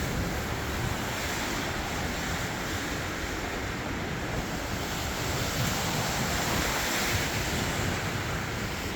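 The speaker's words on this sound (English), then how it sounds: "but it is windy" Strong mountain wind blows steadily outdoors, a loud, continuous roar of broadband rush with heavy buffeting on the microphone throughout and no talk.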